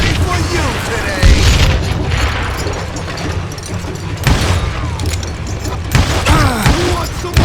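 Dynamite explodes in the Western shooter Call of Juarez: Gunslinger, loud booming blasts repeating amid gunfire and game noise, with voices talking over the action.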